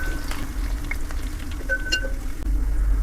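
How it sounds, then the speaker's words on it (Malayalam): Onion and curry leaves sautéing in a pan over medium flame, making a soft steady sizzle with a few light clinks of a utensil and no talking. "ഇനി ഇത് എല്ലാം കൂടെ നന്നായിട്ടുണ്ട് വഴറ്റിയെടുക്കുക"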